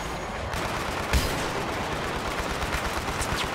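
Gunfire from the Battlefield 3 video game on the Caspian Border map, with steady, dense battle noise throughout and one sharper shot standing out early on.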